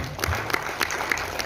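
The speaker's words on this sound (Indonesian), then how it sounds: "tepuk tangan dulu untuk materi itu." Audience applause at a Minangkabau cultural talk, a dense patter of many hands clapping with a few sharper claps standing out, fairly close and sustained throughout.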